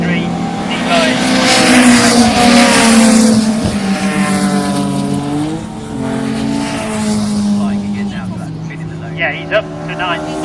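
Ford Capri race cars roar past on the Oulton Park circuit at a classic car meeting, their engines rising and falling in pitch as they rev and shift, loud and close, under a commentator's voice.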